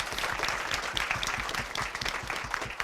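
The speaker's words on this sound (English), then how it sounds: "Give a round of applause, please." An audience at a school district spelling bee claps for a speller who has just gone out, a dense burst of many hands clapping close together that carries steadily from start to finish.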